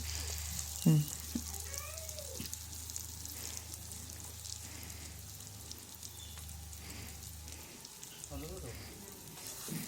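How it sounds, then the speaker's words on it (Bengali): Fish pieces fry in spiced oil in a pan, giving a soft, steady, quiet sizzle with faint crackles and a low hum early on. "এবার আমি মাছ মাছগুলিকে দিয়ে দেবো একে একে সাজিয়ে দেবো"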